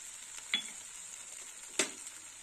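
Dried red chili paste goes into a pan for karela sukto and fries with a faint, steady sizzle, while two brief scraping stirs stand out near the start and end. No one speaks.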